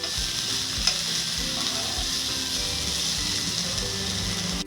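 Onion frying in a pan for village-style onion chutney, with a constant close sizzle and regular stirring scrapes against the pan.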